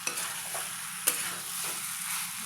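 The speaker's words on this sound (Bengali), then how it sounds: "আলুটা এবার মশলার সাথে ভালো করে মিশিয়ে নিতে হবে।" Potatoes stirred with spices in a hot pan, a steady close sizzle with a couple of sharp spoon knocks against the metal and soft scraping strokes, no talking.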